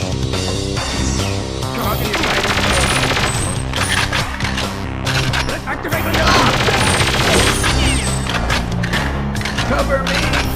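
Rapid weapon fire from the shooter Perfect Dark, with loud volleys of shots crackling steadily over a driving game soundtrack.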